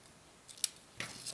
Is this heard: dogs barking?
no